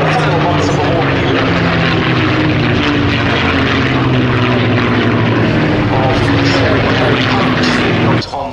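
A P-51 Mustang piston-engined propeller fighter drones steadily overhead at the Duxford airshow, a loud continuous engine roar with a sustained tone that holds throughout, ending abruptly.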